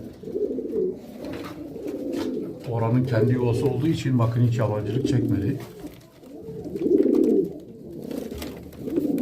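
Homing pigeons coo in low, rolling bursts close by, at a nest box during pairing, while someone talks over them almost throughout.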